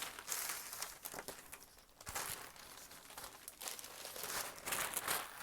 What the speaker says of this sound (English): Let me just move this paper.